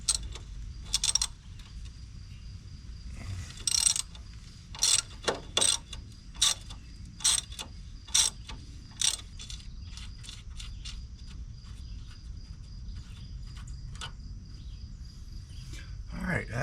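Ratchet wrench loosening a 10 mm bolt on a bracket of a 1999-07 Silverado 2500HD, heard as bursts of quick, close clicking with short pauses between strokes over a quiet background.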